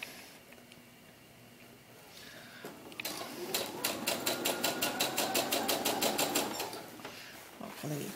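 A sewing machine stitches slip fabric for a doll, starting after a quiet pause and running in a steady, rapid mechanical rhythm for several seconds before stopping briefly. It sounds close and moderately loud, without talk.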